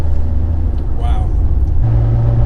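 A Fiat 124 Spider pulls hard under turbo boost, its engine droning loud and close from inside the cabin, with a rising tone partway through and a voice speaking over it.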